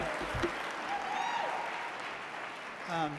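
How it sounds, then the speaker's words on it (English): Faint audience applause after the Georgia Boy Choir's opening performance at a bleeding disorders conference opening ceremony in Atlanta, a soft, diffuse wash of clapping with voices mixed in. "Let's give Don and the Georgia Boy Choir another round of applause for such an amazing opener"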